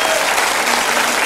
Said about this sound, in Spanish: Un aplauso para el público.